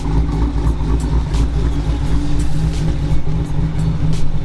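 A Dodge Challenger's 5.7 Hemi V8 with a swapped cam runs close by with a deep, loud, steady rumble and a choppy idle lope, rising slightly in a few brief revs.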